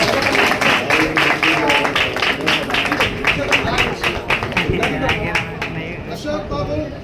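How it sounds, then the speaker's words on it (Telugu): A wedding crowd at a Christian marriage claps loudly and steadily, many hands close by in a dense rapid patter that thins slightly toward the end. "అందరూ చప్పట్లు కొట్టండి గట్టిగా."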